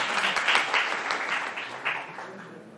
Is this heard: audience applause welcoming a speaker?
yes